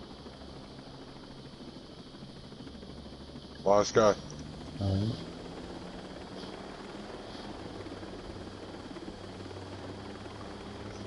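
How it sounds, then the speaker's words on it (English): A helicopter hums steadily in a video game, a constant mid-distance rotor and engine drone under the whole scene while people talk briefly over it. "Okay, get on chopper."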